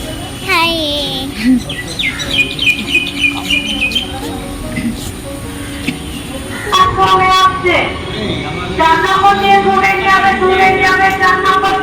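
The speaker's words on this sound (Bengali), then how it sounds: "দেখো আমরা ট্রেনে তো উঠে পড়েছি তো ট্রেনে খুব একটা ভিড় ছিল না" A train rumbles steadily along the rails, with people talking over it and some high chirping sounds throughout.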